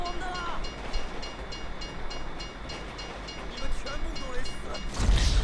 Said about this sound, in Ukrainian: Довго цей поїзд буде їхати?